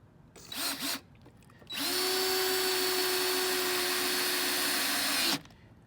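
A power drill drives a 2.5-inch screw into raised bed lumber: a short blip, then one steady, loud whirring run of about four seconds that stops abruptly, heard alone and close.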